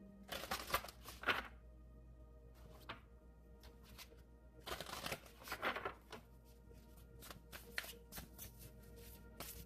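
Priestess of Light oracle cards are shuffled by hand in quiet, repeated bursts of riffling and soft slapping, separated by short pauses, with no talking.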